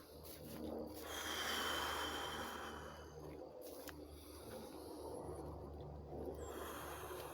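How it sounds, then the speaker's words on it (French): Very deep, slow breaths during an abdominal breathing exercise, a soft, airy inhale swelling and fading, then quieter breathing continuing close to the microphone. "respirer une dizaine de fois en prenant des très grandes respirations comme ceci"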